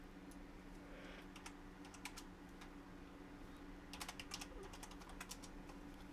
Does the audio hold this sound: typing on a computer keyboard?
yes